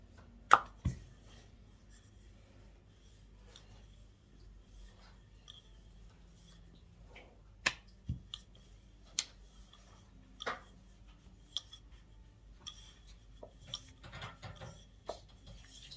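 Samosa dough is rolled out into oval shapes with a rolling pin, heard as quiet, scattered taps and soft rubbing against a near-silent background, with a few sharper knocks spaced irregularly.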